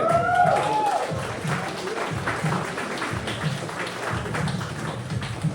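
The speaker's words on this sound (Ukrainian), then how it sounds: "Оплески" A crowd at a coffee festival in Lviv applauds continuously with steady, dense clapping, and a brief whistle or voice rises near the start.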